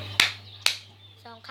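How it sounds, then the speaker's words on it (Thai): Two sharp hand claps about half a second apart, close and clear, followed by the start of a voice. "ปรบมือ2 ครั้ง"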